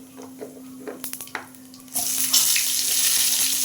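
Papaya pieces drop into hot oil tempered with cumin and bay leaf, bringing an abrupt jump into loud, steady sizzling. A few soft clinks and clatters come just before it.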